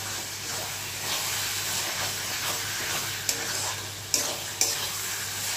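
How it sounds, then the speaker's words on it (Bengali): Chicken mince sizzles steadily in a pan with spices, a continuous close frying hiss with a few sharp clinks of a stirring utensil near the end, no voices. "চিকেনটাকে মশলাগুলির সাথে ভালো করে কষিয়ে নিই"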